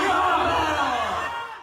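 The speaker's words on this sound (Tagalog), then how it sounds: "Sigawan ang maririnig sa arm wrestling tournament na ito." Crowd at an arm wrestling tournament shouting and yelling together, a dense close roar that holds steady and then fades out over under two seconds.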